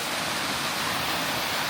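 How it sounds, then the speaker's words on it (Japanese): Waterfall pouring into a plunge pool heaped with ice, ringed by rocks at a hot-spring area in Akita; a steady, loud, close broadband roar of falling water fills the whole stretch with no talk. "滝が流れ落ちてます"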